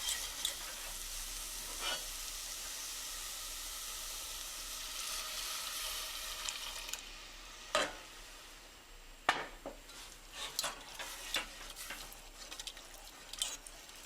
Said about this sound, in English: We're going to stir that through